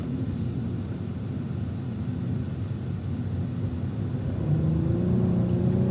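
Cadillac twin-turbo V6 race car running on the track at Auto Club Speedway, a loud, steady low engine rumble heard from inside that rises in pitch as it accelerates near the end, with no talk.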